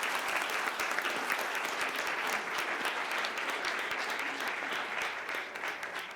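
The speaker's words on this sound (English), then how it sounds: "let's give our panelists a round of applause for sharing their stories" Sustained round of applause from a conference audience for a panel on outdoor recreation, dense even clapping at steady volume throughout, tapering slightly at the end.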